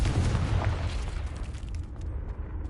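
Confringo fire spell from Hogwarts Legacy detonating as a single deep boom at the start, followed by a rumbling, crackling decay that fades over a couple of seconds, heard alone without talk.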